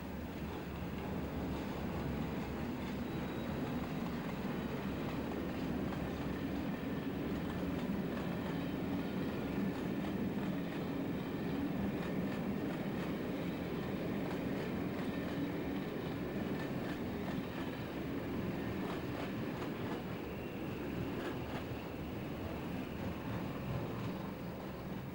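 Class 37 diesel locomotive 37175 pulling a passenger train as it departs Edinburgh Waverley for Inverness in 1994, a steady rumbling engine and rolling wheel noise that holds loud and constant throughout, with no voices.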